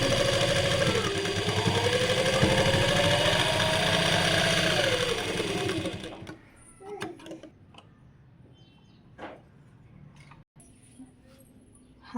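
A sewing machine stitches with a loud, continuous motor whir whose pitch rises and falls for about six seconds. It then stops, leaving faint handling taps and rustles.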